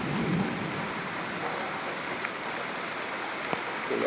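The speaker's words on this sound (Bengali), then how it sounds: "আবার খুব বৃষ্টি" Heavy rain falls outdoors in a Bengal village, a dense, steady rushing downpour close by with a few sharper drop impacts.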